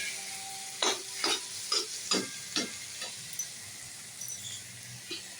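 A pan of onion, tomato and garlic frying, with six or seven sharp spatula scrapes in a steady rhythm over a soft sizzle, then a few quieter strokes, close and without talk.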